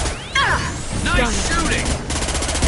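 Rapid gunfire in the Mass Effect 2 video game, a dense crackling volley with whooshing shots, and a voice speaking over the action.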